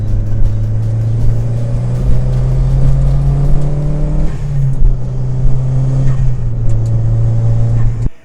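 A modified Chevrolet Sonic 1.4 with adjustable coilovers drives through turns, its engine a loud, continuous close drone with slight pitch shifts as it pulls through the corners, and no talking.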